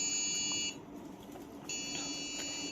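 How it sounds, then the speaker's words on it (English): An automatic clothes hanger's rain sensor buzzer sounds in steady, high-pitched electronic beeps, one long beep, a short gap, then another, clear over a quiet room hum. "the buzzer will beep 5 times"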